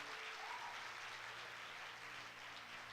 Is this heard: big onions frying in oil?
no